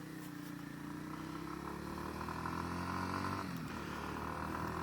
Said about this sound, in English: So it's got that pea shooter exhaust on it.